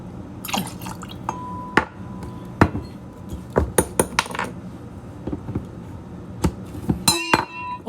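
A Hennessy glass bottle is handled clumsily, producing irregular close clinks, knocks and small drips of liquid, with a bright ringing glass chime near the end and no talk.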